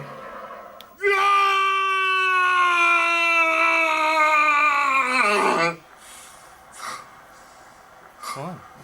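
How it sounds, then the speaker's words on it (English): A long, loud scream of pain from a movie, one sustained cry lasting several seconds before breaking off, followed by quieter vocal noises. "Big scream of pain."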